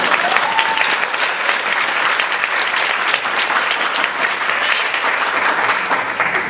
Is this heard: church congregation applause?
yes